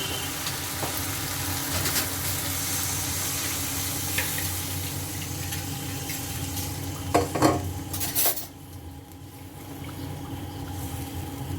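Oil sizzles and gets stirred for a meatball curry, then water is poured in with a brief loud spluttering burst, after which the frying noise drops to a softer, duller simmer.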